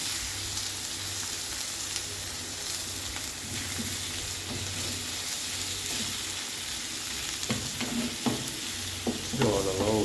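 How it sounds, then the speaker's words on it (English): Onions, some turning brown, fry in a pan over low to medium heat and are stirred, a steady loud sizzle running throughout with scraping and utensil knocks near the end. "Stir everything up."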